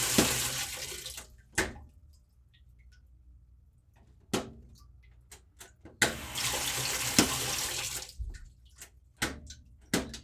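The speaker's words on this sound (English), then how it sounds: "Hold on, I think it starts draining." A washing machine being repaired drains its water in long rushing bursts mixed with short sharp clatters and knocks, alternating with quieter stretches.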